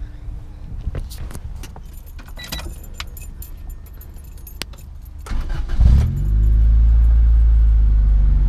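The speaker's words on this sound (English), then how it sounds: "Give you guys a quick little start with some revs on it." A JDM Honda Civic EG hatchback with a D15B engine and Ready SP exhaust: keys jangle, then the engine cranks and catches at about six seconds, settling into a loud, steady idle with a rev.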